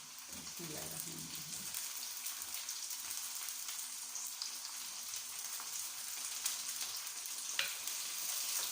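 Tomatoes and green chilies drop into a frying pan for a homemade potato, cauliflower and onion curry, setting off a steady, fairly loud sizzle with a few soft stirring scrapes early on and no voices.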